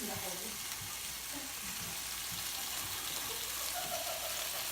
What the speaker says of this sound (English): now I want to take them out and I actually want to brown them